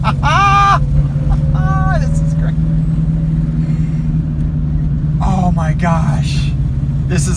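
A rare Honda car drives on a road in Denmark, heard from inside as a steady, loud engine drone while people talk over it.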